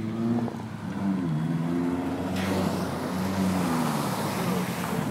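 An engine on a vehicle stuck on a frozen parking lot drain revs and then bogs down, its tone sagging and wavering under strain, loud and close, with a burst of broadband noise partway through.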